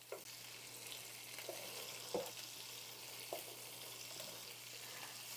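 Medium onion frying in a pan on the stove, a soft steady sizzle with a few occasional stirring clicks and scrapes, quiet and close under a low constant hum.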